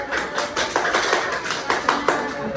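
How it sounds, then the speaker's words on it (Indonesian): A classroom of students clapping their hands in a patterned, rhythmic series of claps and taps, fairly close and clear, with no talk over it. "Ayo, mana tepuk tangannya?"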